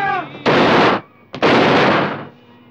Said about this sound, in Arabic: مش رصاص يا ابوي، دول كانوا بيفتحوا ثلاث جزايز شمبلي